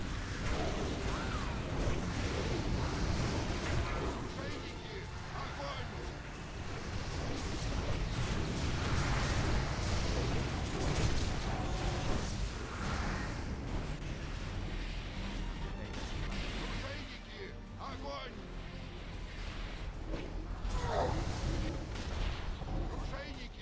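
Dense rumbling booms and bursts of ship cannon fire from a video game, continuous and loud throughout, with other game noise layered underneath.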